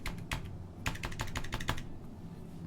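Typing on a computer keyboard during a Star Citizen game session, a quick burst of close, crisp keystrokes in uneven clusters with no talking.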